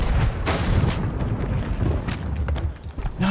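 Ship cannons firing during a galleon battle in Sea of Thieves, a couple of heavy booms with rumbling low-end aftermath and scattered impacts, close and loud.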